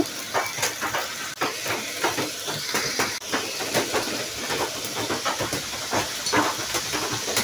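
Ground spices added to a pan with fried onions and onion paste for fish gravy, a continuous hissing sizzle broken by repeated stirring scrapes and clacks of a utensil.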